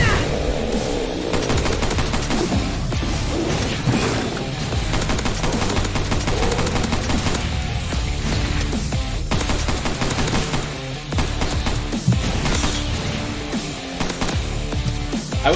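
Sustained rapid gunfire from a shooter video game, loud and continuous bursts of automatic weapon fire layered with game sound effects for the full stretch, no voices over it.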